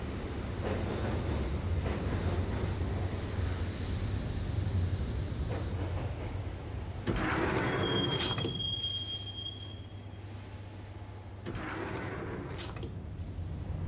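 Subway train in the Max Payne video game riding along the tracks with doors shut, a steady loud rumble of wheels and carriage with metallic wheel squeals cutting through midway, then the roar easing somewhat.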